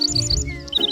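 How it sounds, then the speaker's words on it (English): A bird sings a quick run of high, bright chirps in a repeating pattern, with a short pause and then more chirps, over a soft, steady musical backing. "That's a bird singing."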